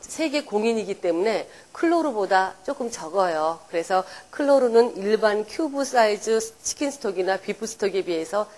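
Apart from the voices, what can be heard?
None of the usual background noises is heard.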